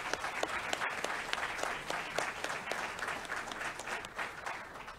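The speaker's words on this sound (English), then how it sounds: "Can we please congratulate our graduates again, our students, one more time with a round of applause." A graduation audience at a university spring commencement applauds for its graduates, a dense, even wash of many hands clapping at a distance, fairly soft and steady throughout.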